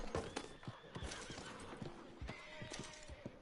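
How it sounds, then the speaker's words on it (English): Frightened horses near a fire in Red Dead Redemption 2 whinny and neigh repeatedly over steady hoof clip-clop, several animals overlapping at moderate distance against a continuous background wash. "As you can hear, all the horses are quite upset, understandably so. Horses do not like fire."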